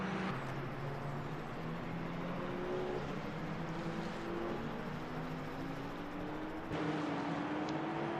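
Hypercar engine in the Le Mans Ultimate racing game, a sustained drone with rising and falling pitch as it brakes and accelerates around the Bahrain circuit, steady and fairly loud with no voices.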